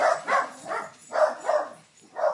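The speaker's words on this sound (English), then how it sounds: "at least there's a dog barking, right?" A dog barks indoors in the background, a series of about six evenly spaced, moderately loud barks in pairs and singles, with no other sound between them.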